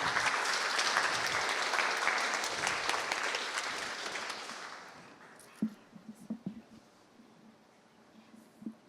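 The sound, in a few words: audience applause at workshop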